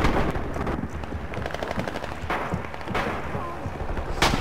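Gunfire in a video game battle, rapid cracking shots and bursts running under continuous voice chat and game callouts, with a sharper burst near the end.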